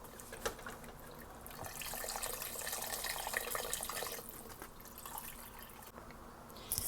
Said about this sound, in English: I'm just going to go ahead and just pour the beef broth right in